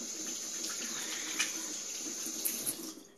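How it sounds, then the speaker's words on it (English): Hands being rinsed under a running kitchen tap while decorating a cake, a steady close hiss of flowing water with a few small splashes as the hands move through the stream. "So I'm rinsing my hands off."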